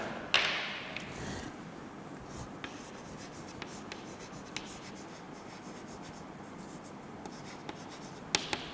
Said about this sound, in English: So, I will just write it.